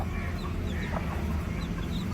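A hen clucks softly and steadily in the soil while her day-old chicks peep faintly around her, close by with a constant outdoor rumble underneath.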